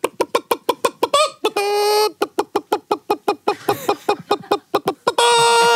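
A man imitates a hen with rapid rhythmic clucks broken by drawn-out squawking cries, loud and close, and people talk around him.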